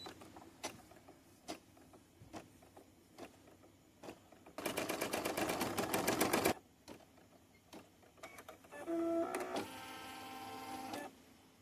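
An embroidery machine sews a tack-down stitch on an in-the-hoop bookmark, giving a fast, steady mechanical chatter of needle strokes. Quieter ticks and clicks come before it, and another whirring stitching burst follows.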